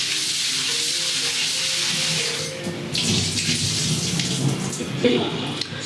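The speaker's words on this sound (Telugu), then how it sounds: "ఈ పచ్చిరొయ్యల్ని మరొకసారి వాష్ చేస్తాను." Raw prawns being washed by hand in a bowl of water, with close splashing, sloshing and trickling that grows busier midway and peaks near the end.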